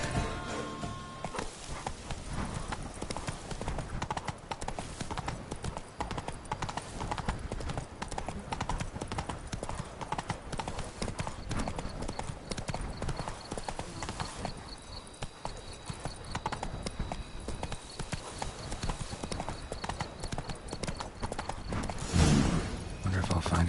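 Geralt's horse Roach galloping in The Witcher 3: Blood and Wine, a dense, continuous rhythm of hoofbeats with game ambience and a voice speaking over it.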